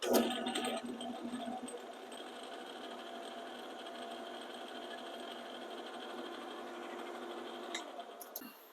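A metal lathe running slowly in back gear while a replacement fairing mount stud is started for threading; a steady mechanical hum and rattle continue unbroken for several seconds at moderate, close range, with no talking.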